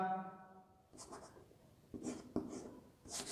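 Marker or chalk strokes on a board while an oscillations equation is written, a few separate short scratchy bursts of writing with quiet gaps between them, close and moderately loud, with no talking.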